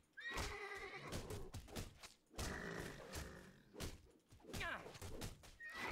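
Horse neighing and whinnying in the fantasy action role-playing game Titan Quest Anniversary Edition, with several loud, close whinnies repeating across the stretch over a busy game soundscape.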